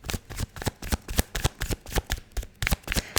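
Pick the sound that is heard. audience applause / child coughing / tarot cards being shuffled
tarot cards being shuffled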